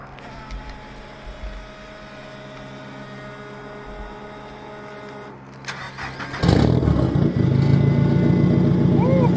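Nissan 180SX with a dual-tip blast pipe exhaust, idling with a low hum before the engine rises sharply into a louder, raspy revving roar that holds steady, close to the tailpipes.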